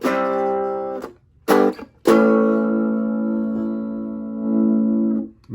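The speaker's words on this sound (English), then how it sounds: "it's not distortion, it's just overdriving the front of the amp there" An electric guitar plays sustained chords through an amp pushed by a transparent overdrive pedal, with a warm, slightly driven tone and short pauses between strums.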